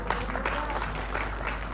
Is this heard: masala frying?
no